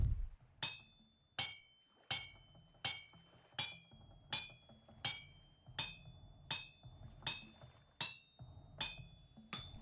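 An iron anvil being forged in the survival game Vintage Story, heard as about thirteen sharp metallic hammer strikes at a steady, evenly spaced rhythm, each ringing briefly against a quiet background.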